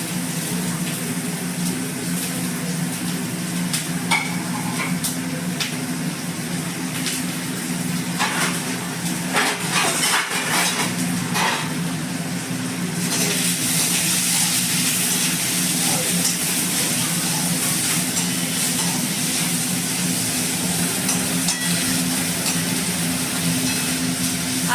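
Curry leaves sizzling and crackling in hot oil in a home kitchen pan while being stirred, a steady frying hiss that grows brighter partway through, with a low constant hum beneath.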